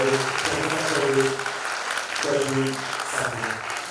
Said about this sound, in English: So the thunderous applause, let's welcome the Vice Chancellor.